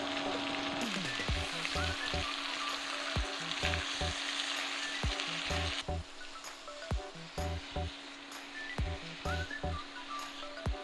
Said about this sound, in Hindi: मसाले के साथ आगे की भुनाई होगी, और इसमें हम लोग मसाला डाल करके आगे भूनते चलेंगे